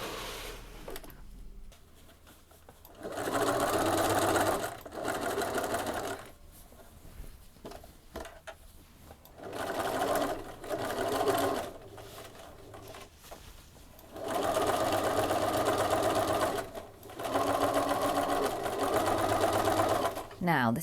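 A domestic sewing machine runs in several long steady bursts while stitching the lining of a rain cape, close and loud, with a voice talking in the quieter gaps between runs.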